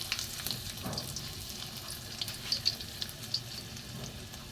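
Ginger and onion frying in a pan, a soft, fairly faint sizzle with scattered light pops and occasional stirring, no talking.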